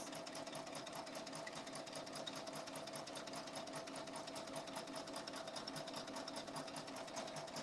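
An embroidery machine stitching lettering runs steadily, a continuous rapid mechanical whir and needle patter at an even pace, fairly faint and uninterrupted.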